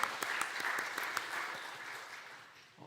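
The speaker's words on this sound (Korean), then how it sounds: "격려의 박수 부탁드립니다" Church congregation applause, brisk clapping at first that gradually thins and fades toward the end.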